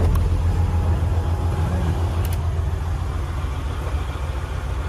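A 2016 Freightliner Coronado 122 SD heavy truck engine idles as it warms up, producing a steady low diesel rumble that stays constant and close with no change in pace.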